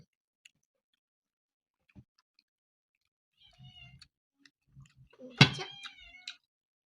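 A cat gives a single short meow, close and clear, amid an otherwise quiet room with a few faint clicks and soft sounds.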